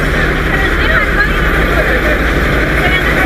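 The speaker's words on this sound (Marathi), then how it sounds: "हा माथेरानचा स्टेशन आहे, रेल्वे स्टेशन, आणि ही रेल्वे इंजिन" A Matheran toy-train railway engine at Matheran station gives off a steady, continuous mechanical drone. A crowd chatters and voices talk throughout.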